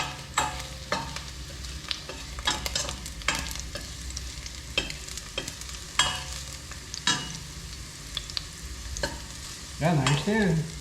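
Garlic frying in cooking oil until golden brown, with a continuous sizzle and repeated utensil scrapes and clinks, plus a brief burst of louder crackling near the end.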